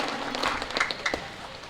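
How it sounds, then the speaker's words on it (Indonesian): A scattered round of clapping from an audience at an open-day discussion session, with loose, uneven claps that rise briefly and then thin out over a low room background. "Kita beri tepuk tangan untuk Bapak Muhai atas sambutannya."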